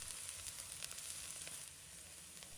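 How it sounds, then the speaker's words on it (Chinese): Chopped scallions and garlic hit hot oil in a wok and are stir-fried quickly, a quiet, crackling sizzle with light spatula scrapes that eases off slightly toward the end. "热油后将切好的葱蒜放入，迅速翻炒至散发出浓郁的香味。"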